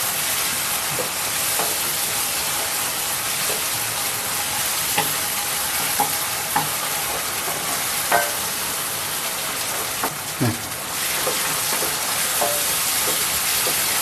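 Chicken masala with ginger paste frying in a pan, a steady close sizzle with occasional scraping stir strokes throughout, no talking.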